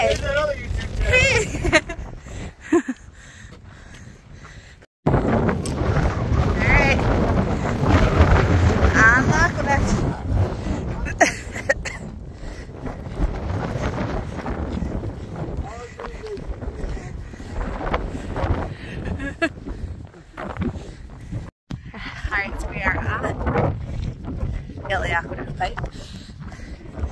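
Wind buffets the microphone on a hike along the LA Aqueduct, a loud, continuous broadband rush with gusty swells and two brief dropouts, steady for most of the stretch.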